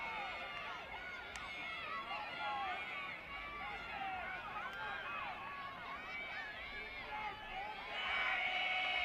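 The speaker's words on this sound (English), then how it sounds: "You hear the sideline yelling." Sideline players at a Stony Brook vs Hofstra women's college lacrosse game in James Stewart Stadium yell continuously, many overlapping shouting voices forming a steady, dense wall of noise that swells louder near the end.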